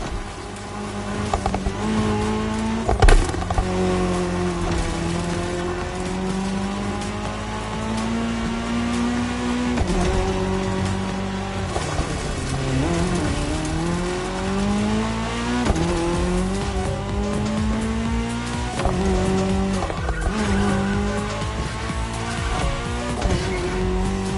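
Race cars roaring around a tarmac section of a cross-terrain race in The Crew Motorfest, engines revving and shifting continuously with tire squeals and skids, loud and close throughout.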